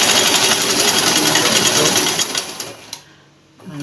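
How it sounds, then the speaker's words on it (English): A sewing machine stitches down a straight skirt seam with a steady, fast, close mechanical whir for about two and a half seconds, then slows and stops, leaving a brief click and quiet. "Lock it up, and then I'm just going to sew it down"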